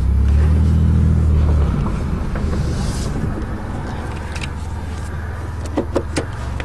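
Power seats in a fully optioned Chevy car whir with a low electric motor hum that stops after a couple of seconds, followed by soft interior clicks and light rustling.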